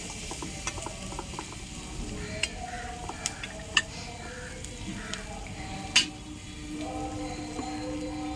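Chopped onion frying in a pan on a wood-fired clay stove, a soft steady sizzle with scattered clinks and scrapes of stirring, close and fairly quiet, no voices.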